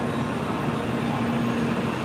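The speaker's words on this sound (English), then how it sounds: "The staff is all looking in this direction, so I just assume that the train is coming from this way." A Shinkansen bullet train nears a station platform in Japan, giving a steady, continuous rumble with a faint hum and no distinct passes or clacks.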